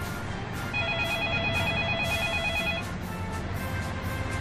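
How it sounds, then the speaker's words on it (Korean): An old telephone rings with a rapid trilling bell, one long burst of about two seconds, fairly clear over a dense background of noise and rhythmic thuds, with no talking. "그러나 이때 울리는 상관의 전화."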